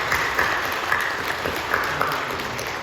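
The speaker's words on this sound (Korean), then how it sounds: "우리 격려하며 박수해 주십시오." A church congregation applauds together, a steady patter of many hands clapping across the room with no voices over it.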